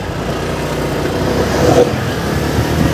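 A motorcycle engine revs hard on a street by a rail viaduct construction site on Padre Jacinto Zamora, a rough mid-range drone that swells briefly near the end amid steady traffic noise.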